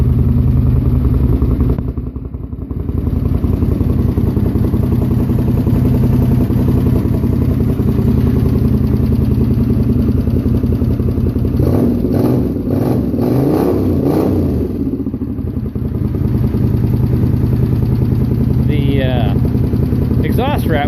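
Honda CX500 bobber motorcycle idling steadily and loud throughout, a continuous low engine throb with a brief dip near the start, under someone talking.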